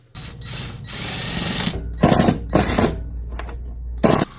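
A Ryobi bench grinder whirs steadily as its motor runs, then winds down, with a few louder clattering bursts along the way, close and fairly loud.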